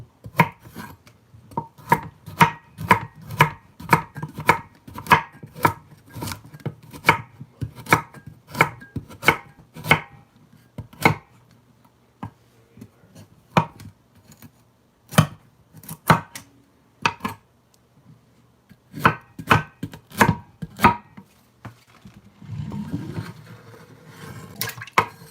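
A knife chops organic carrots on a board in quick, steady bursts of sharp close strikes with short pauses between runs, and there is a brief rustle near the end.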